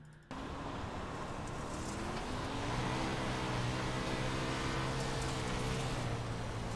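A steady, droning engine roar with a rising harmonic whine, continuous and fairly loud, from a 410 winged dirt sprint car held at high revs in the iRacing video game.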